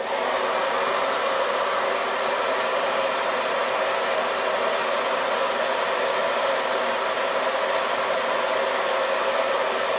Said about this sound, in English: So I can actually now turn the dryer on and I'll start to dry.